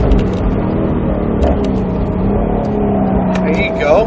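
A Roush Mustang RS3 on the Speed Vegas track downshifts: a loud, steady engine drone with layered harmonics, then a rising rev near the end, with a voice talking over it.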